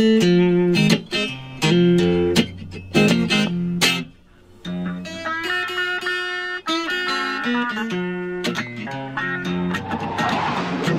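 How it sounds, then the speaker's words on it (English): Guitar plays a riff and strumming pattern from a blues song, mixing sharp strummed chords with single-note runs and ringing held notes. "So here's our riff and our strumming pattern."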